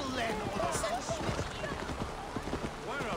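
Horse hooves clop in a steady, quick rhythm throughout in the video game Assassin's Creed Valhalla, with a soft background tone and faint chatter mixed underneath.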